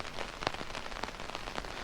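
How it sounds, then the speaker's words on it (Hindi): Steady rain falls over a village at night, a dense, continuous patter on surfaces with scattered louder drops, fairly soft and with no voices. "रात की बारिश लगी और अभी तक रुकी नहीं है"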